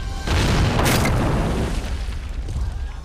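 Artillery shell exploding in the Men of War Assault Squad war game near Caen, a single heavy boom with a sharp onset and a long rumbling tail.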